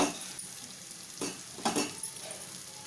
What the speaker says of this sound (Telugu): వేసి ఇంకొక 5 నిమిషాలు వేగనిస్తున్నాను